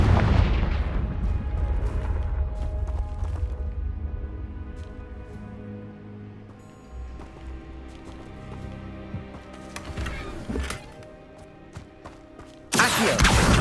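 A Confringo fire spell explodes in the Hogwarts Legacy video game with a heavy booming blast at the start, followed by rumbling crackles, scattered bursts and game effects, and a sharp new burst at the end.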